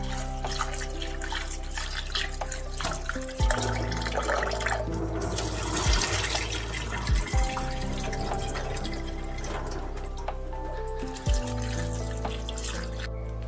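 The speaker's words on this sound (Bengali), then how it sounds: "তা চলো আমি এই চিড়েটা আজকে একটু ধুয়ে নিই।" Gobindobhog flattened rice is rinsed in water in a kitchen, with running tap water, splashing and trickling alongside a few sharp clinks of a vessel over a steady background hum.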